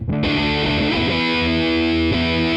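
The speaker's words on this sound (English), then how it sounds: "fuzz, which completely blows out your guitar signal and creates this really thick, saturated, almost buzzy sound" Electric guitar pushed through a fuzz pedal, a thick, saturated, buzzy sustained chord with a couple of re-struck changes, loud and unaccompanied.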